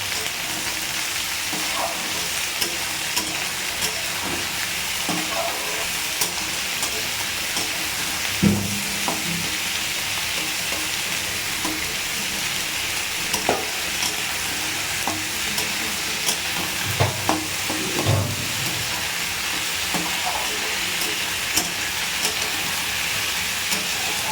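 Ivy gourd, onion and green chili frying together in a pan, with a long steady sizzle and occasional spatula knocks and scrapes against the metal, close and even throughout.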